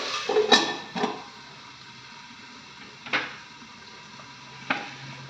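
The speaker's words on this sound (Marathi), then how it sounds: "हे बघा फोडणी करते त्याला आधी" Quiet, steady sizzle of mustard seeds, curry leaves, dried red chili and asafoetida in hot oil, with a few sharp clinks of a utensil against the pan.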